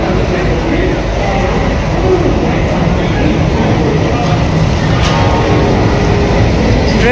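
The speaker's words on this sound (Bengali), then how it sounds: "ট্রেন ঢুকছে, এখন সময় 12:35, ট্রেন ঢুকছে হাওড়া স্টেশনে।" The Howrah Jabalpur Saktipunj Express pulls into Howrah station with a loud, continuous rumble and rattle of rolling coaches that fills the busy platform soundscape.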